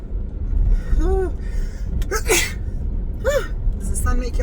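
A sneeze set off by bright sunlight, with a sharp broadband burst around the middle of the clip amid gasping breaths and voiced sounds, close and loud over steady road noise.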